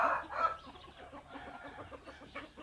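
Young chickens let out of a backyard home coop in the morning cluck and chatter together in a steady, busy murmur, one louder call opening the stretch before the flock settles into continuous close clucking.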